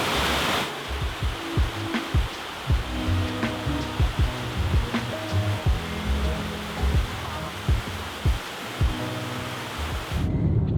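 A small, pretty waterfall pours in a steady broadband rush of falling water, continuous and fairly close, with occasional low bumps and thuds over the flow.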